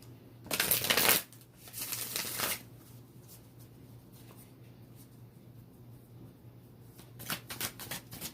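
Tarot cards being shuffled close up in a quiet room: two loud bursts of riffling, then softer flicks and faint card sounds, with no talking.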